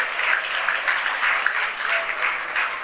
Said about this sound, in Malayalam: അതിരം തുറന്ന് കൈയടിച്ചൊന്ന് സ്തുതിച്ചേ